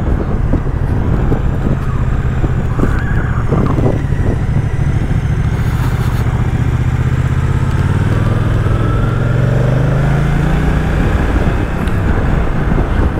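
Loud, close engine rumble of a moving Moto Guzzi Stelvio twin-cylinder motorcycle, with a deep throbbing note that rises and falls as it accelerates, over steady wind noise.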